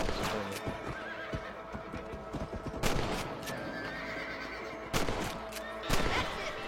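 A horse neighs and its hooves clip-clop in Red Dead Redemption, among bursts of gunfire and dense game noise, close and busy throughout.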